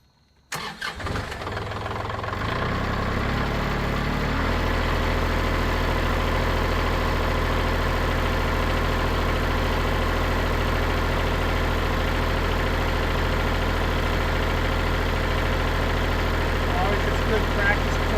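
A Kubota L3902 tractor engine cranks and catches, then settles into a steady, loud diesel idle with a deep rumble that carries on unchanged.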